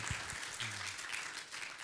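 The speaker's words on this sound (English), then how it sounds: "Big round of applause" Applause from an audience at a book tour talk, a dense wash of clapping that holds steady and fairly loud across the short stretch, with no voices over it.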